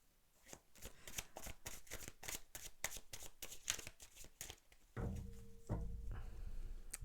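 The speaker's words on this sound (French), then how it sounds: "on va tirer une dernière carte" A deck of oracle cards being shuffled up close, a quick run of crisp riffling flicks lasting several seconds, then a softer slide and rustle as one last card is drawn out.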